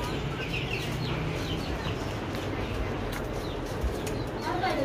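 Pigeons flock in a busy mass of close, steady cooing and fluttering as feed grain is scattered, a dense continuous bird chorus with no clear pauses.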